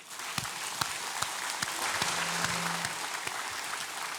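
Church congregation applauding together during a Korean worship service, a steady wash of clapping from a large crowd with a few sharper claps standing out near the front.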